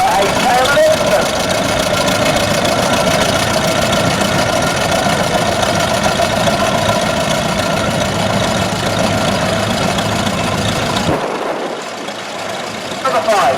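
A 1919 Saunderson Model G vintage tractor engine at a rally, running loudly and steadily with a knocking idle, close by, cutting off near the end while someone talks over it.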